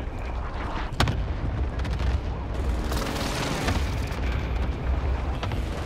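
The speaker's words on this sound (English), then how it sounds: "Allied precision airstrike." A run of heavy explosions from an allied precision airstrike in a first-person shooter, continuous rumbling booms with sharp bursts near the start, loud and dense with no talk over them.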